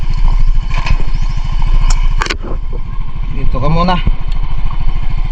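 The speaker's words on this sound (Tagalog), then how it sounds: "Parking lang ang motor." A parked motorcycle idles close by in Sorsogon, its steady low chugging pulse running throughout under a brief spoken phrase and a few sharp clatters.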